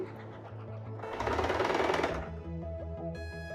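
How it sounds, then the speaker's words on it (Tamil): Sewing machine stitching blouse rope, a rapid mechanical whir that swells louder and denser in the middle, then eases back to a quieter steady run. "இப்போ அடுத்ததையும் தைக்கிறோம் பாருங்கள்."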